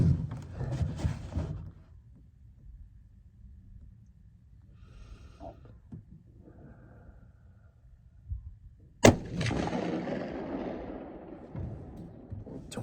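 A single loud rifle shot from a CVA Cascade firing 6.5 PRC reloads cracks out sharply, followed by a rumbling echo that decays over several seconds, with softer handling and breathing noises before it.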